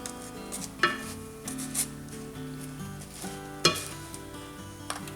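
Garlic naan bread sizzles in a hot pan, a quiet, steady crackle broken by a few soft clinks and scrapes.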